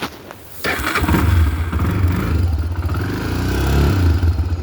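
A Honda 300ex ATV engine cranks with a brief clatter, then catches and runs with a loud, close, throbbing idle that rises and falls as the throttle is given.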